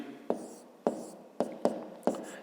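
A pen writes on paper while a maths exercise is worked out, giving five short sharp scratchy strokes spaced irregularly in a quiet room, close and alone.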